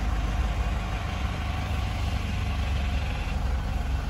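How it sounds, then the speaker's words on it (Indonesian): A first-generation Mitsubishi Pajero Sport engine idling steadily just after starting following an oil and filter change, a constant low rumble heard up close and alone. "Kita kira-kira 2-3 menitan lah ya, kita jalan running dulu mesinnya"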